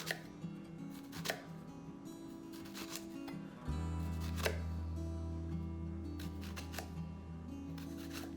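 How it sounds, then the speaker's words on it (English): A knife cutting a grid into a shallot on a board, a few soft, separate taps and slices spaced irregularly, quiet and close, over a steady low background hum. "I'm gonna cut a grid inside the shallot"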